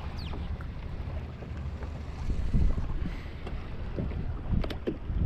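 Wind gusts over a choppy sea around a small fishing boat, a rough continuous rumble with occasional knocks and splashes against the hull, close and moderately loud, with no voices.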